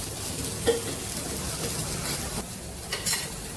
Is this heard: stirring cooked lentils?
yes